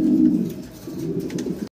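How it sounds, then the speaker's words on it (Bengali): A pair of Paikla Hori fancy pigeons coos steadily at close range, low throaty rolling calls running almost continuously before cutting off abruptly at the end, with no talking. "এখানে খুব সুন্দর এক জোড়া কবুতর আছে, এটা পাইকলা হরি"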